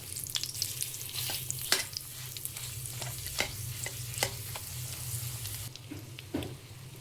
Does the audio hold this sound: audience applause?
no